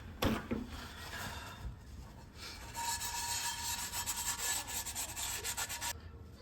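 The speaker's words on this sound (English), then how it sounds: "If you're not using oil and coarse salt to clean your cast irons, you should start." Coarse salt and oil scrubbed around a cast iron pan, a steady gritty rubbing that runs continuously for several seconds with a brief pause near the end.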